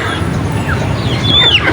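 A native chicken hen clucks softly a few times amid steady outdoor background noise, with a higher bird call near the end.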